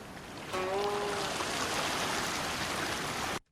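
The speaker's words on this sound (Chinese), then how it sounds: "我用一个海浪的声音代表呢 人已远去啊" Ocean waves wash in as a steady, broad rushing surge after a short whistling tone at the start, holding loud and even for about three seconds before cutting off abruptly.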